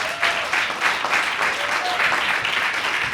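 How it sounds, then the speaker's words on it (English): Full-room applause at a book presentation and signing event, a loud, dense burst of clapping lasting a few seconds with a voice faintly audible under it. "One more round of applause."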